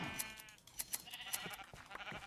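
Sheep bleating in Minecraft, several short wavering bleats close together with clicks and game sounds mixed in, fairly quiet.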